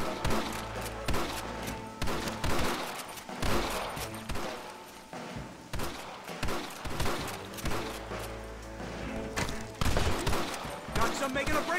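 Rapid gunfire from a Red Dead Redemption shootout, with repeated sharp shots in irregular bursts and a steady background rumble, loud and close throughout with no talking over it.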